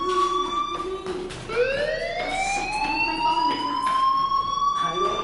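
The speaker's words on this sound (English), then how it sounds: "do you hear that fire alarm? That means you should be outside." Rising and sustained electronic alarm tones in the video game Life Is Strange, a fire alarm sounding loud and steady with a sweeping pitch, faint background voices mixed underneath.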